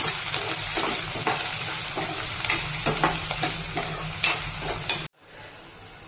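Green chilies and curry leaves stirred and frying in a pan for a mutton keema dish, a steady loud sizzle with spatula scrapes and clicks, close up, ending abruptly into near silence.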